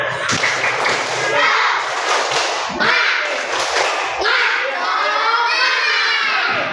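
Schoolchildren in an Islamic religious lesson do a rhythmic spirit clap chant, shouting together in bursts with sharp group claps, loud and close throughout.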